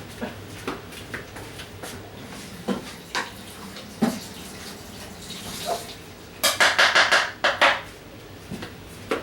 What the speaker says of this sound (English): Rinse this off one more time.